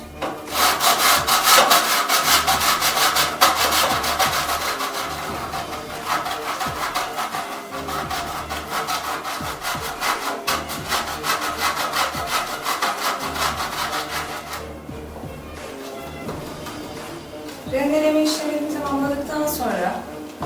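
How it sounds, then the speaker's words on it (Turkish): Olive oil green soap is rubbed on the finest side of a grater in quick, rasping scrapes, close and steady for about fifteen seconds, with someone speaking near the end. "Rendemizin en ince gözüyle doğal zeytinyağlı yeşil sabunumuzu rendeliyoruz."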